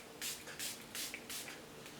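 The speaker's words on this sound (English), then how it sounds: "Let me spray it on my face." A facial mist spray bottle is pumped four or five times in a steady rhythm, each spritz a short, soft hiss close by, in an otherwise quiet room.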